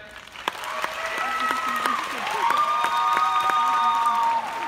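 Audience applause at a social media panel in Barcelona, a steady wash of clapping from a seated crowd lasting several seconds, with a host's voice speaking over it.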